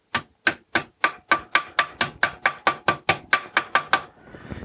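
A 3D-printed stop is tapped into place with pliers in about fifteen sharp, evenly spaced knocks, close and crisp, each with a brief ringing decay, followed by a short rustle.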